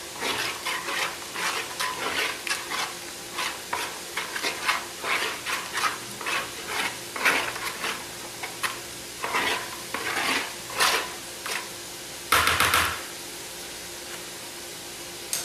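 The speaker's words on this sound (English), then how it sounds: "Get yourself a big mixing bowl." Repeated wet stirring and scraping of tomatoes in a big mixing bowl, a steady rhythm of swishes continuing for several seconds, with one louder clatter near the end.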